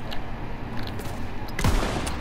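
Gunfire in the Call of Duty: WWII video game sounds as scattered, crackling shots within a dense battle din. A sharper, louder report comes near the end of the brief stretch.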